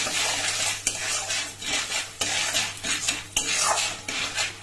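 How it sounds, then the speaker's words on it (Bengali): Spices with turmeric stirred in a pan, heard as a steady hiss of sizzling with repeated scraping and clinks of a spoon against the metal, fairly close and loud. "তারপর দিয়ে দেবো একটু হলুদ। এবারে এইভাবে নাড়াচাড়া করতে থাকবে।"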